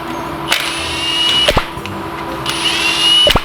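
A power impact tool drives bolts during an engine assembly, giving several short whirring bursts with sharp clicks roughly once a second over a steady background hum.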